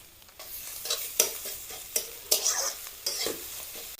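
Egg with onion being stirred and fried into crumbles in a hot pan, a spatula scraping in repeated strokes over a bright sizzle, close up and fairly loud.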